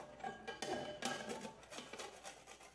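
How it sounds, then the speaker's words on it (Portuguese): A lemon being grated for a simple cake, rendered as quiet, rhythmic scraping and rasping strokes against a metal grater, close but faint, with no talking. "agora eu vou ralar aqui o limão"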